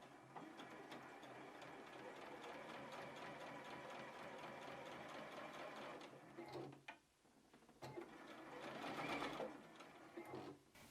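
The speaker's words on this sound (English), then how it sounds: "we are gonna sew over the zipper" A sewing machine stitches over the zipper of a zippered box pouch, running in a steady, loud mechanical whir that pauses briefly near the end before starting up again.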